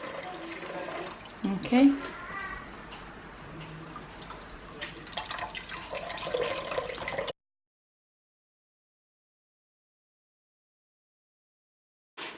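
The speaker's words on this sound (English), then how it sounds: "I just squeeze just to get as much water as I can out of it" Boiled cabbage squeezed by hand releases trickling, dripping water in uneven splashes. A person talks over part of it, then silence follows.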